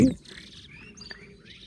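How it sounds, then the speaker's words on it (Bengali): Small birds chirp in a patch of wetland forest at Mithamoin bil, with short bright tweets scattered over quiet background after a brief low thump at the start. "পাখি কিন্তু কিচিরমিচির করে ডাকছে।"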